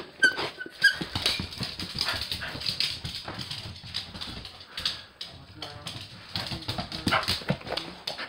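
Beagles playing up close with a person, giving scattered yips, whimpers and scuffling movement in a busy, uneven burst of activity while someone talks to them.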